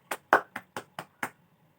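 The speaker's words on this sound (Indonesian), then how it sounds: "kita kasih tepuk tangan buat Rizka" Applause for a student in an online class: six separate, crisp hand claps close to the microphone, spaced fairly evenly across about a second and a half, each one sharp and dry with near silence between them.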